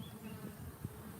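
Honey bees buzzing at a hive in an apiary, a soft continuous drone close by for a brief moment, alone with no talk.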